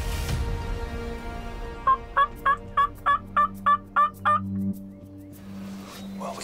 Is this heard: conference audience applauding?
no